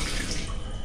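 Water runs steadily from a tap in a quiet indoor room, a continuous close hiss and splash with no voices over it.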